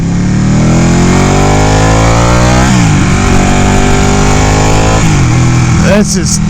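A Ducati 899 Panigale motorcycle engine revs hard while riding, climbing through the gears with two shifts and ending in a brief throttle blip, loud and close.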